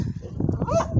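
Dogs give brief yips and a whimper close by in a rural village street, short and overlapping with someone talking.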